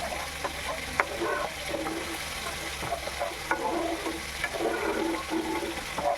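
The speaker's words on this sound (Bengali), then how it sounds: "দিয়ে দিচ্ছি জল।" Water is poured into a pan of fish curry with green chillies, a steady close splashing and bubbling with scattered stirring clatter throughout, no voices.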